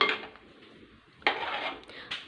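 A spoon stirring a ground coconut and yogurt paste into a mango pulissery curry in a metal pot, with light clinks and scraping in a few short bursts, close and alone.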